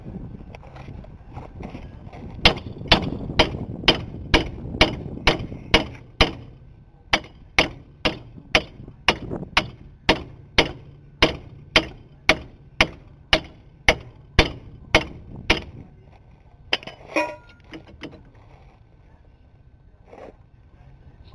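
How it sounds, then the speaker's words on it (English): Steady hammer blows drive something into place in a garage: about two dozen sharp, loud strikes at an even rhythm, a brief pause partway through, then a few softer knocks at the end. "it seems to be pounding in a little bit"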